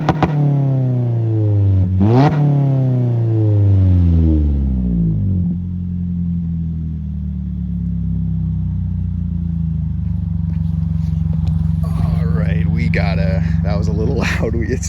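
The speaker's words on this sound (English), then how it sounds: "But that is the exhaust sound." A 2022 Toyota Corolla Hatchback XSE exhaust revs hard close by, rising and falling in sharp sweeps, then settling into a loud steady idle, with people talking toward the end.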